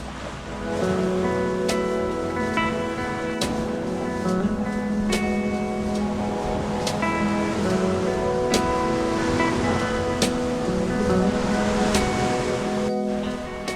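Surf washing onto a beach at high tide on Koh Chang island, a steady broad roar of breaking waves filling the whole stretch, with faint tonal sounds from the surroundings mixed in.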